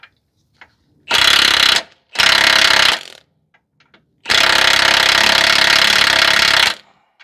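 A hand ratchet clicks rapidly in three close, loud bursts, the last one longest, while the castle nut is fitted on the front driver's side CV axle of a 2010 Subaru Outback 3.6.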